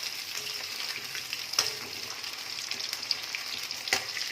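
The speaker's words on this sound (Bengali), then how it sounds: "এবার আমি প্রত্যেকটা চিকেনকে একবার করে উল্টে দিচ্ছি।" Chicken pieces for dry chilli chicken, fried until browned, sizzle steadily in hot oil while being flipped one by one, with sharp clicks and spits from the turning utensil at intervals, close and clear with no talk.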